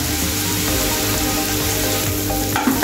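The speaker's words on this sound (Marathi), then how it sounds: "आपला कांदा आणि लसूण छान असा फ्राय झालेला आहे." Chopped onion and garlic fry in oil in a pan for dhaba-style lasooni methi, a dense continuous sizzle with stirring sounds, close and even throughout, ending with a brief scrape.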